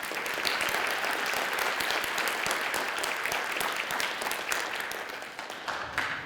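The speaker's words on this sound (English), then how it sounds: "Let's give all presenters another round of applause." An audience claps for the presenters at a school division showcase event, steady sustained applause filling the room, fairly even in level and fading slightly near the end.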